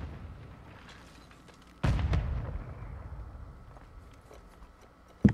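Grenade explosion in a first-person shooter video game, one sudden loud boom with a rumbling decay, followed by a fainter sharp pop near the end.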